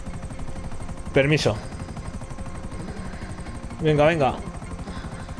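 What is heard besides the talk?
helicopter flying in GTA V video game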